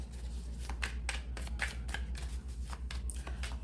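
Tarot cards shuffled by hand in a rapid series of crisp riffling bursts, close and clear over a low steady hum, with no talking.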